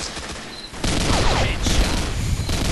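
Rapid M21E rifle gunfire in the online shooter Combat Arms, a dense, loud volley of shots layered with game effects and ambient noise over nearly three seconds.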